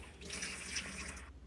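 Tap water runs into a pot of washed rice in a kitchen in Japan, a faint, short splashing gush lasting just over a second before it stops, with no talking.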